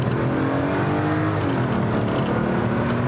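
A Mercedes W202 C43 AMG V8 pulls hard under kickdown, its deep engine note loud and continuous while the revs climb, dip at a shift, then build again.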